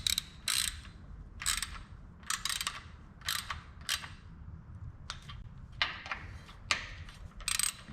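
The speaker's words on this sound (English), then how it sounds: "I'm gonna go ahead and tighten up these bolts on here." A ratchet wrench tightens bolts on the carriages of a Langmuir Crossfire Pro CNC plasma table, sharp clicking bursts repeating in short irregular runs at close range, with quiet pauses between.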